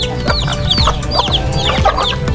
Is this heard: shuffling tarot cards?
no